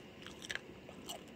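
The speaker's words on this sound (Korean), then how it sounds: "고추튀김 맛있어" A crunchy fried chili fritter, cooked in perilla oil, is bitten and chewed close up, giving a few crisp crunches over quiet chewing with no talk.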